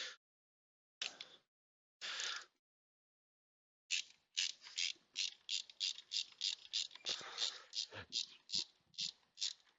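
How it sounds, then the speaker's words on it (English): A ratchet wrench turning in glow plugs on a VW Jetta MK6 TDI, a few isolated clicking bursts followed by a long run of quick, close ratcheting clicks at a steady rhythm. "It should be real easy to turn in with your wrench."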